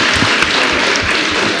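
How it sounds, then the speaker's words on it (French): Applause from an audience for a high school student at a public question session, a steady dense patter of many hands heard close and fairly loud throughout, with no pause. "Oui, vous pouvez l'applaudir, c'est un futur de science."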